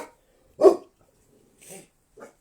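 Puppy barking indoors, a single sharp close yip followed by two softer, shorter yelps after quiet gaps.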